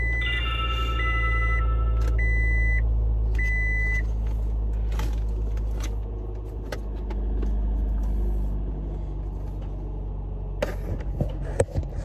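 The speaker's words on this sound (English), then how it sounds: "I'm gonna have to turn the car on." Scion xB compact car engine idling with a steady low rumble inside the cabin, brief chime beeps early on and clicks and rustling toward the end.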